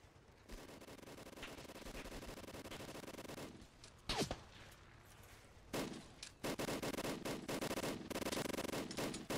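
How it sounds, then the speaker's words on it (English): Rapid automatic gunfire in the Roblox D-Day war game, long sustained bursts with a short lull and a few sharp isolated shots before heavy firing resumes, loud and continuous throughout. "Yeah, he's firing from here."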